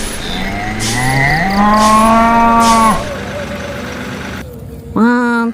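Loud cow moos, a long drawn-out call followed by a shorter one after a brief lull, alongside a toy cattle truck rescue game, close and clear with a little background noise.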